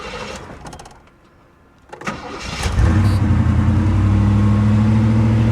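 A 1982 Chevy Camaro Crossfire V8 with a busted dash and a possible vacuum leak falls quiet briefly, then cranks and catches close by, settling into a loud, steady high idle.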